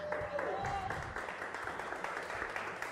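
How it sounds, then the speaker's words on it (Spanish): A TV studio audience in Argentina applauds accordionist Azul Carrizo, a dense, fairly faint burst of clapping with cheering voices mixed in. "Fuerte el aplauso para Azul Carrizo"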